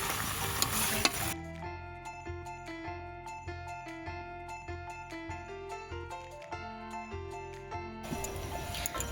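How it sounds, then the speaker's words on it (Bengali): Mixed vegetables (cauliflower, whole peas, kohlrabi, potato, beans, eggplant, and spinach, gourd and other leafy greens) sizzle and are stirred in a wok, heard clearly at the start and end with background music filling the middle. "এবার এটাকে ভালো করে কষানো হচ্ছে।"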